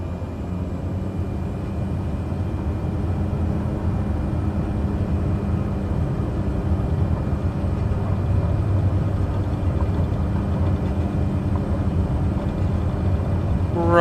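A light aircraft engine runs at takeoff power through the takeoff roll, a steady, loud droning roar that holds level for the whole stretch with a low, even rumble and no voices.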